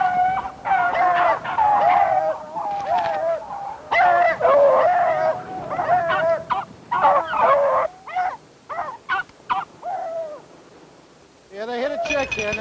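Beagle hounds bay and yelp in bursts while chasing a scent during a hunt, several dogs giving voice loudly and fairly close, with short gaps and a final burst.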